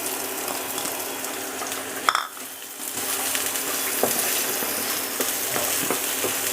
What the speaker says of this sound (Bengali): এবার আমি পেঁয়াজ কুচিটা দেব।